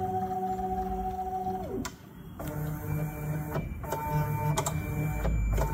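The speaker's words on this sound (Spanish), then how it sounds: "Y mientras la impresora saca la malla" A large Voron Trident 3D printer probes its heated bed mesh, giving a humming stepper-motor whine that drops away, then a series of sharp clicks and tapping contacts with short tonal beeps, close and clear.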